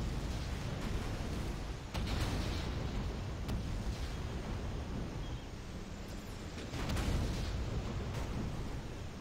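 Vortexes are destroyed in a Contra real-time strategy mod, producing dense rumbling explosions and booms that overlap in a continuous loud battle din, with a few sharper bursts standing out.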